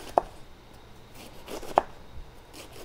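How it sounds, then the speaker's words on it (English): A sharp knife slicing a head of lettuce into shreds on a cutting board, two distinct crisp chopping thuds over a faint crunchy background. "I like to put it stem side down, and then just make small slices"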